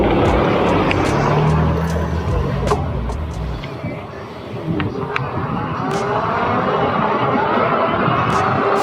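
Busy street traffic with passing cars heard from an electric bike, under heavy wind rumble, with a few brief sharp clicks and some chuckling.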